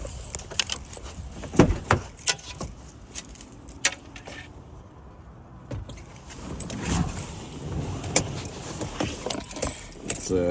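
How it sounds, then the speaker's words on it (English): Keys jangle loudly in short bursts near the ignition of a 2010-15 Chevrolet Camaro with a manual transmission, followed by rustling and low mechanical handling sounds; the engine does not clearly catch within the clip. "Let's go ahead and start the car."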